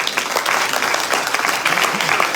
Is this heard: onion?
no